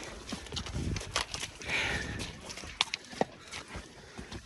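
Horses walking through mud or water in Patoka, Hawkes Bay, New Zealand, days after a cyclone, hooves clip-clopping in an uneven rhythm with sharp individual strikes, close by, with brief human voices.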